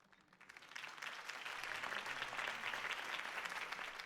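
Crowd applause swells from near silence into sustained, dense clapping that holds steady and loud, following a campaign speech for Harvey Dent in the Batman Telltale Series game.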